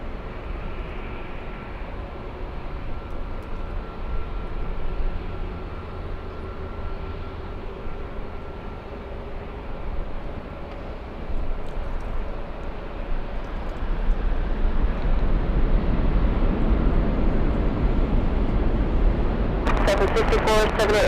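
A Delta Boeing 767 heavy jet takes off from runway 24 left at LAX. A steady engine roar holds through the clip and swells louder in the second half as the jet powers down the runway.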